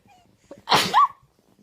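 A baby gives one short, close sneeze, preceded by faint breathy sounds and followed by quiet.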